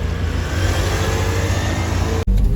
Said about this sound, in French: elle s'en va pile poil. Petite beauté, hein, GT3 RS 4 litres, noir.